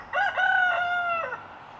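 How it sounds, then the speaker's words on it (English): A rooster crows once nearby, a loud clear cock-a-doodle-doo lasting about a second against a quiet outdoor background. "Damn rooster."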